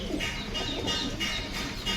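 Fancy pigeons for sale, including Deobandi birds, coo softly in repeated low, rolling phrases close by, with faint background noise and no speech.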